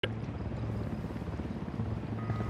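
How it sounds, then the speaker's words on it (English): A steady, dense helicopter rotor drone with rapid low thumping, loud and continuous throughout, like a chopper hovering nearby, in the video game Ghost Recon Wildlands. "Helicopter inbound."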